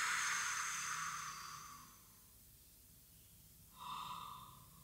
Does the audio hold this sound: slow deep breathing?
yes